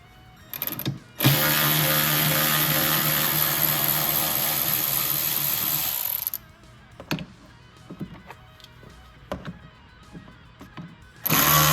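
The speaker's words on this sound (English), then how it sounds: "next we'll remove the T20 bolts down at the bottom" Power tool driving out T20 bolts from a 2015-2023 Ford Mustang tail lamp: a loud steady whir lasting about five seconds, followed by a series of quiet clicks and taps, then a short second burst of whirring at the end.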